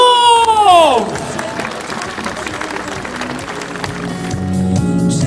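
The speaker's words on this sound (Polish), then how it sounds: "Wielkie, wielkie brawa tancerzom!" A crowd applauds and cheers for dancers after a music note fades, clapping spreading into a steady, fairly loud wash of noise.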